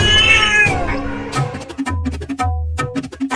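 A cartoon cat meows in a few short, bright calls over a busy cartoon soundtrack, with brief low thumps and chatter between them in a comic Holi-themed scene.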